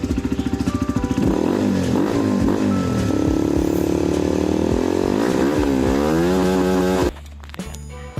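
A Suzuki Raider Flash 150X motorcycle fitted with an aftermarket power pipe exhaust idles with a fast, popping putter, then revs up hard into a loud, raspy, sustained wail that rises and falls before cutting back sharply near the end.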